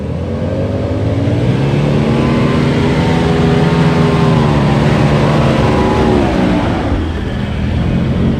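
A 4x4 engine labours and revs steadily while the vehicle drives along a slippery clay forest track, giving a loud, sustained drone whose pitch rises and falls, with a dip near the end.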